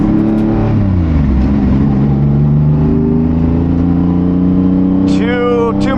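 A 2007 Subaru WRX STI engine running hard on the road, a loud steady drone with pitch sliding down and climbing again as it pulls, with a voice speaking briefly near the end.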